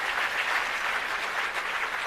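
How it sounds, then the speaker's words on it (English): Steady, dense applause from an audience at the launch of technology centres of excellence, a continuous crowd of clapping hands filling the whole moment without a break. "Let's give another big round of applause"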